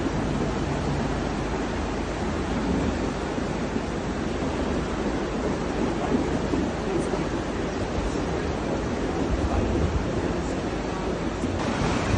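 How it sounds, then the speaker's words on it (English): Floodwater of the river Visp rushing through a village at the foot of the Matterhorn after violently bursting its banks, a loud, steady, close roar of churning water with no pauses. "the river Visp has violently burst its banks"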